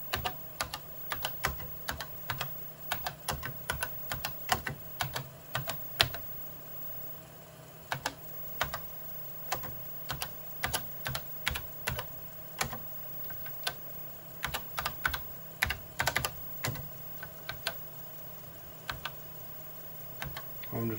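Typing on the keyboard of a 1980 Intertec Superbrain computer, a steady run of crisp, close keystrokes in irregular bursts and pauses over a constant electronic hum from the machine.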